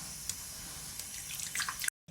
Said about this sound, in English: Make sure you wash your hands.